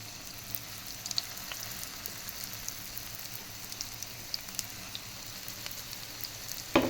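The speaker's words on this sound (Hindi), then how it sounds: "ये अब डालना स्टार्ट करते हैं कबाब हम, और हम इसको डीप फ्राई नहीं कर रहे हैं, शैलो फ्राई कर रहे हैं" Potato kebabs shallow fry in a pan over low heat, giving a soft, continuous sizzle and crackle with scattered small pops, quiet and close, with no voice over it.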